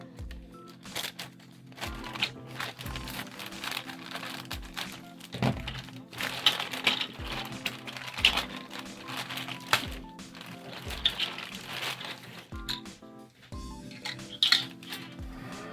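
A plastic bag of Trumpeter 1/200 scale USS Iowa BB-61 model kit parts is cut open and handled. Close, irregular crinkles, clicks and small thunks come one after another, with no talking.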